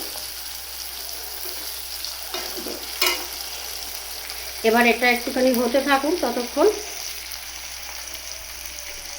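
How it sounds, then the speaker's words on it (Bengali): Prawns fry in a pan with a constant bright, hissing sizzle that runs throughout. A person talks briefly over it near the middle. "এখানে দেখুন চিংড়ি মাছটা সুন্দর করে ভাজা"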